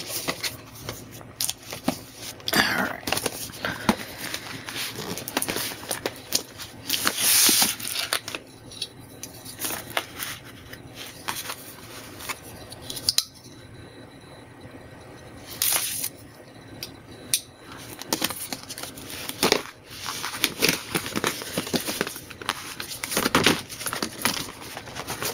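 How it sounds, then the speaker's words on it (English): Unboxing a Roccat Isku keyboard: irregular rustling, crinkling and scraping of packaging and cardboard, close up and fairly quiet, coming in uneven bursts with brief pauses. "let's crack open the Isku keyboard here"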